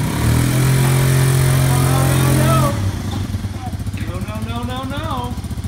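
A children's four-wheeler ATV with a green start button runs loudly up close, its steady engine drone dropping to a quieter idle midway while voices talk over it.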